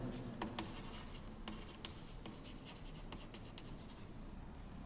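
Marker or chalk writing on a board during a biology lecture, heard as steady scratchy strokes with a few sharp taps, fairly faint and alone with no talking.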